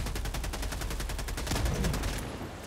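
Rapid video game gunfire rattles off in an even stream of quick shots, a steady automatic burst running for a couple of seconds before tailing away.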